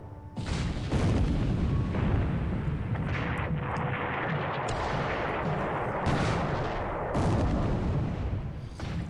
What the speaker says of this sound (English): That was a 14-inch hit on the Indianapolis.